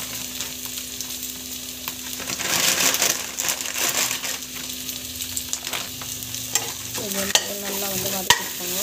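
Whole spices and a bay leaf sauté in a hot pan, giving a steady close sizzle with scraping stirs; a brief louder crackle builds around the middle and a few sharp clinks come near the end.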